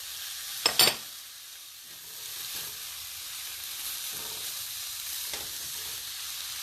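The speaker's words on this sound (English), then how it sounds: "Keep stirring." A pot of vegetarian bean and pasta soup with black beans and dry pasta is stirred: two sharp knocks of a utensil against the pot early on, then soft intermittent scraping stirs over a low bubbling hiss.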